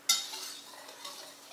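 A spoon scrapes and stirs baking powder into scone batter in a bowl, one quick clatter at the start and another at the end, faint and close.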